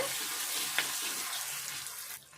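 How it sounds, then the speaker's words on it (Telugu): Ginger garlic paste fries with tomato in a pan for a dried shrimp curry, giving a continuous close sizzle with one brief clink of a utensil, then the hiss drops off near the end. "అల్లం వెల్లుల్లి పేస్ట్ వేసుకుందాము. ఇది కూడా కొద్దిసేపు గోలాలి, వేగాలి మంచిగా."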